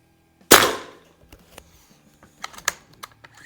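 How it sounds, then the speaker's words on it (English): Beeman Raider .177 PCP air rifle fired at a range: one sharp, loud crack close by, followed by faint mechanical clicks and small handling taps. "we'll shoot the whole 10-round magazine"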